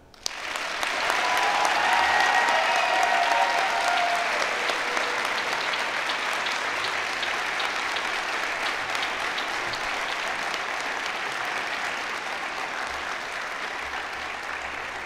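Audience at a university graduation ceremony applauds the new doctoral graduates: a long, warm, even roll of many hands that starts abruptly, swells early, then holds steady and slowly eases off.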